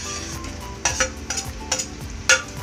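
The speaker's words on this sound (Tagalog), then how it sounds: "Igigisa na po natin ang mga ingredients. Yung luya at bawang." Ginger and garlic sautéing in a pan, a faint low sizzle punctuated by several bright metallic scrapes and clinks of a utensil against the pan, close by and with no talk.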